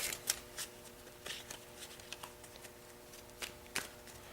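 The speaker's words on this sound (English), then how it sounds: "Shuffle your deck." A Magic the Gathering card deck being shuffled, giving soft, quiet riffling bursts of cards at irregular intervals with short pauses between them and no voices.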